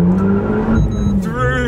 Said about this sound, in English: A lot of wheel spin then.